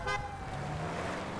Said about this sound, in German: Eine Hupe, ich brauche auch eine neue Hupe.